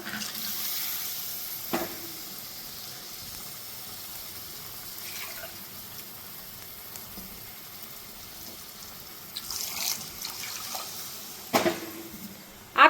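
Water is poured into a pan of spiced drumstick curry being cooked in village style, making a soft, steady wash of liquid sound with a few clinks of utensils.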